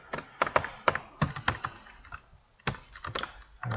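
Computer keyboard keys clatter in short bursts as code is typed, crisp close clicks with a brief pause midway before typing resumes.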